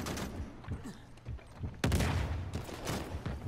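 Rapid bursts of gunfire in an Uncharted 4 multiplayer match, loud and dense with overlapping shots and a heavier blast partway through, continuing steadily to the end.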